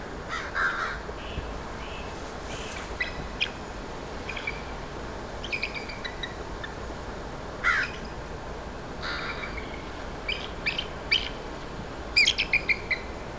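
Crows caw repeatedly at an eagle in scattered bursts, some nearer and louder than others, over a steady outdoor background.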